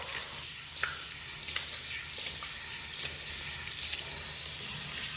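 Tap water runs steadily into a bathroom sink, rinsing the drain in a continuous close hiss with a few small splashes and clicks, and no voices.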